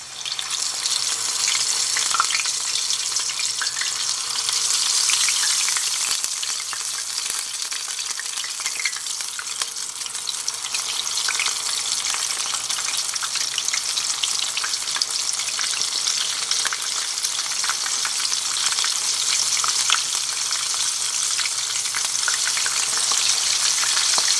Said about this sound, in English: So let's get to frying.